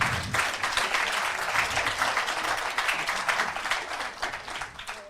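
Audience applauding steadily at an EcoJardin 2020 certificate ceremony, dense clapping filling the room with no speech over it.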